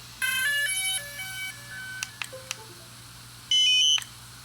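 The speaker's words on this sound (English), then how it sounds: "we're going to start by powering on the Spark and powering on the remote" A DJI Spark drone and its remote powering on, giving a sequence of electronic start-up beeps and melodic tones, then a few sharp clicks and a brighter chime near the end, heard close and alone.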